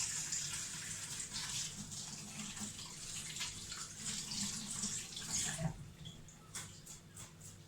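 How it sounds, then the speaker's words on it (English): Hands washed under a running kitchen tap while prawn wontons are prepared, a steady close hiss of flowing water with splashing that breaks off near the end into a few scattered drips and clinks. "So wash my hands."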